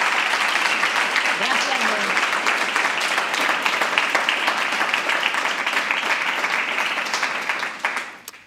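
An audience applauds at a live Italian storytelling event, sustained dense clapping filling the hall at a steady level before tapering off near the end.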